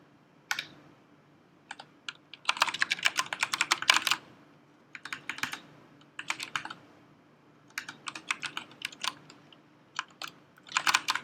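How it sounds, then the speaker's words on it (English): Bursts of rapid typing on a computer keyboard, close and clear, with clattering keystrokes grouped into runs separated by short pauses, alone without talk. "If you've been noticing weird typing going on, this keyboard is awesome."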